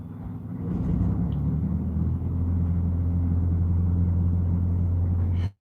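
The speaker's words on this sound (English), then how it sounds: "I don't know if you heard that. That was the reefer." A truck trailer's reefer refrigeration unit runs with a steady, loud, low mechanical drone and hum that settles in after a second and holds constant until it cuts off abruptly at the end.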